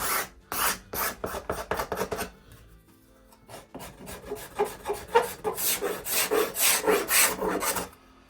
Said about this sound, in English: And then finally a cabinet scraper to even it all off.